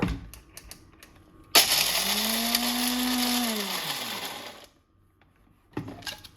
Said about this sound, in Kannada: ಇಷ್ಟು ಇದನ್ನು ಮಿಕ್ಸಿ ಹಾಕ್ಕೊಳ್ತಾ ಇದ್ದೀನಿ ಇವಾಗ